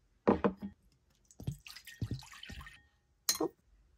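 A small metal doll key drops into a container of water to dissolve its black color-reveal paint, giving a few brief splashes and drips followed by faint sloshing, close by and alone.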